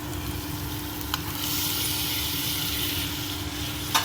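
Tomatoes fry in a pan for brinjal drumstick curry, giving a steady, close sizzle with a couple of brief clinks from a utensil against the pan.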